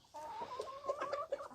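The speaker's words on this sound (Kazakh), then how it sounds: "Тауықтарымызды осылай есік алдына шығарып жайып жатқан жайымыз бар." Chickens clucking close by as they forage outdoors in front of a house, a steady run of short, overlapping clucks and calls from the flock.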